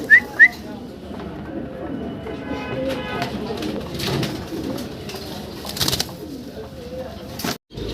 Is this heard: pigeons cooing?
yes